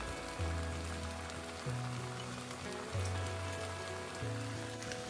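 Onion, ginger and garlic frying in oil with turmeric and red chili powder for a Bengali fish kalia, a steady close hiss and crackle with soft periodic scraping underneath.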